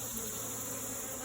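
Honeybees buzz densely around an opened backyard hive, a steady, close swarm drone with no pauses and no voices.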